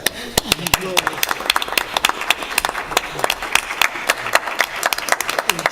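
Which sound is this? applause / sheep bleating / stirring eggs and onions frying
applause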